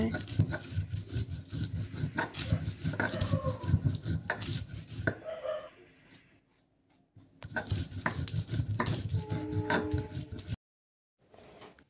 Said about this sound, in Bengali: এখানে পেঁয়াজ আর রসুন বাটা করছি শিলপাটায়।